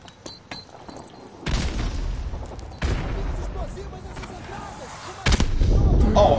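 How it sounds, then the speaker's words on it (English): Grenade explosion in Modern Warfare 2 Remastered: a few loud booming bursts with gunfire-like crackle spaced across a few seconds, amid game noise and talk. "how about a grenade?"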